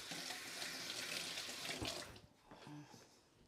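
Tap water runs steadily into a sink while hands are washed during home cooking of Irish mac and cheese, a continuous close splashing hiss that stops abruptly, followed by a few faint clinks.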